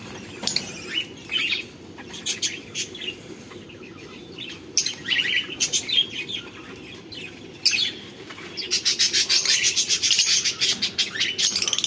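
Pet cockatiels and finches chirp and tweet in scattered bursts, with a dense run of rapid high twittering near the end over a low steady background hum.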